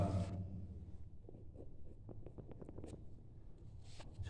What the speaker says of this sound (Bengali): এই অঙ্কটা একটু লিখছি